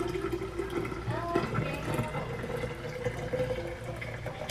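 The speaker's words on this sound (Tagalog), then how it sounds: "Kaya talagyan ko pa ng maraming tubig." Water pours steadily into a pitcher for a sweetened homemade drink, a continuous splashing fill heard close by for a few seconds with some faint background noise.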